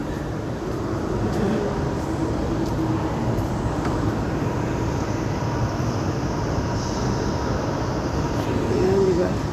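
Steady broad rumble of an MRT train at Dubigot Station in Singapore, a continuous roar with no clear pauses, heard from a busy station area.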